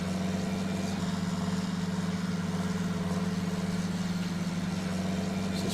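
Steady idling-style drone of a John Deere 6030 tractor engine pulling a plough on a steep field in Farming Simulator 19, a constant low hum with no breaks, faint and alone.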